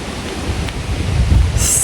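Light breeze gusting across a microphone on a hiking trail in a park, a close, steady low rumble with a brief rustle at the end.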